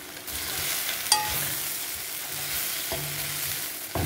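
Okra fries with chili powder in a pan, sizzling steadily up close while a spatula stirs and scrapes, with a few sharp clicks against the pan.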